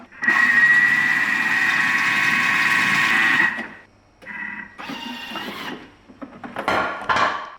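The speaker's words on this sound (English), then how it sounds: "Okay, let's blend it." Homemade mayonnaise with smoked paprika whirring in a blender, a loud steady motor whine for several seconds, then shorter pulsed bursts with clattering pauses between.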